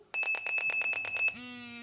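Anti-barking dog collar set to vibrate-and-sound mode gives a loud, rapid series of about ten sharp electronic beeps, then a short steady tone as it stops.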